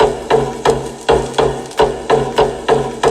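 Sampled hand drums lifted from an old record, a steady pattern of sharp, evenly spaced hits, loud and close with no voices.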